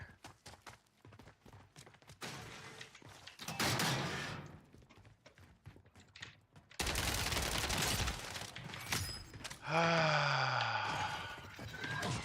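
The Striker gun fires in a video game as loud bursts of rapid gunfire, with a quieter stretch of scattered shots giving way to heavy, sustained volleys and ringing, whining tones near the end.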